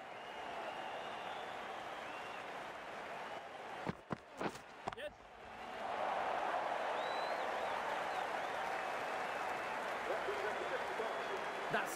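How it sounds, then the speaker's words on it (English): Crowd at a cricket match applauding and cheering a well-played shot, a broad wash of clapping that swells after a brief burst of knocks, with commentators talking over it. "It's going to be hard for the bowler to focus with the crowd this excited."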